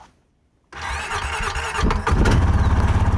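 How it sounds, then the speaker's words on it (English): A Honda four-wheeler ATV engine cranks with a whining starter squeal, catches and fires up, then settles into a loud, close, rhythmic idle with a slight rise as throttle is given. "Press the starter button here at the bottom. I want to give it a little bit of throttle here."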